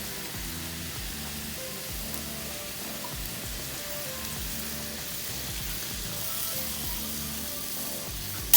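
Crab stir-frying in curry powder in a pan gives off a steady, even sizzling hiss with faint low rumbles underneath, moderately quiet and unbroken throughout, with no voices.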